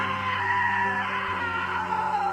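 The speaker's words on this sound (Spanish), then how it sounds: "Now that was a great scream." A woman's sustained scream rings out in the video game What Remains of Edith Finch, a long wavering cry held loud and steady over a low background hum.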